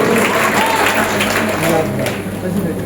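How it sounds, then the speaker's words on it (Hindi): An audience at a Rajasthani literature festival in Chittorgarh applauds with dense, loud, sustained clapping that barely dips before tapering slightly at the end. "जोरदार तालियां बजाकर आप इनका अभिनंदन करें।"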